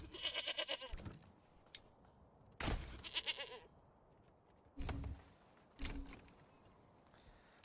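Goats bleat in a Manor Lords village, several separate calls spaced a few seconds apart, moderately near, with faint ambient sounds between.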